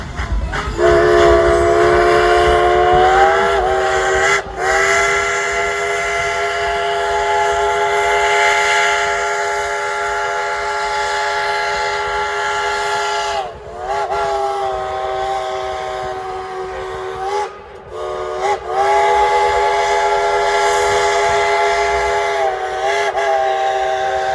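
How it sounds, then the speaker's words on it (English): The Dollywood Express steam locomotive sounds a long, loud whistle close by, sustained for most of the time with a few brief breaks, over the heavy rumble of the train. "Tell the engineer to blow the whistle."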